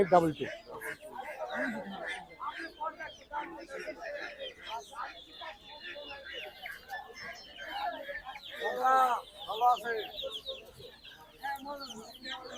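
Native chickens cluck and squawk at a busy poultry and bird market, with hens calling repeatedly amid crowd noise while people talk nearby throughout.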